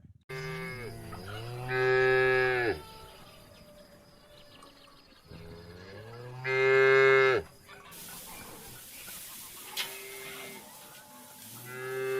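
Two long, loud cow moos, several seconds apart, with quieter farmyard background and faint rustling between them.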